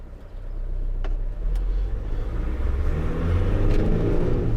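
Renault Master 2.2 dCi diesel van pulling away, engine rumble building steadily as it accelerates, heard from inside the cab with a couple of faint clicks.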